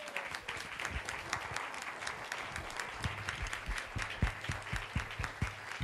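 Audience applause at a ballet event, a sustained wash of many hands clapping at moderate distance, steady throughout.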